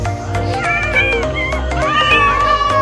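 Several Minecraft cats meowing in quick succession, loud and close, with overlapping high mewing calls over a low background hum and no talking.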